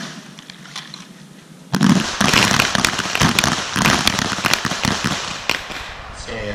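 Handguns fire at police range targets, a dense burst of overlapping sharp shots from several shooters at once, loud and close after a quiet lead-in, with a command voice briefly heard.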